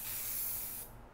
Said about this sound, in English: So get yourself some spray lube here. We use the super lube here.